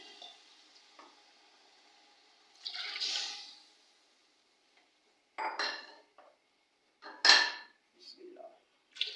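Water splashes into a pot for cooking matar pulao in short, quiet bursts separated by silence, with a few faint clinks of cookware.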